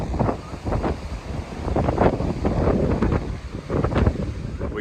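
Strong wind gusts across an open beach, buffeting the microphone in loud irregular rumbling bursts with surf-like roar underneath and no voices.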